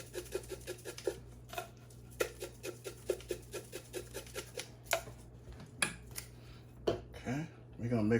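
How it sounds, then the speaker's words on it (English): Pasta salad being stirred with Italian seasoning and dressing in a bowl, a steady series of light clinking, scraping utensil taps in an uneven rhythm, close and fairly quiet, with brief speech. "Okay, we're gonna mix it some more."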